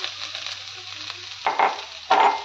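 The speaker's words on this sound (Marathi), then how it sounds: "आता त्याच कढईमध्ये थोडंसं परत 1 चमचा तूप ॲड करणार आहोत आणि थोडंसं हे खवलेलं खोबरं आहे ते थोडंसं हलकंसं भाजून घेणार आहोत" Grated coconut lightly roasting in a spoonful of ghee in a pan, a steady soft sizzle throughout with two brief louder bursts of stirring scrapes near the end.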